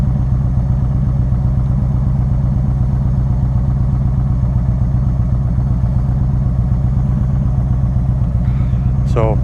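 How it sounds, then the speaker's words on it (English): A 2015 Yamaha V Star 1300 Deluxe cruiser's engine thrums loud and close with a steady, even pulse as the clutch is eased out and the bike begins creeping forward, ending with a short rising whine. "You start letting go of your clutch slowly until it starts to move forward."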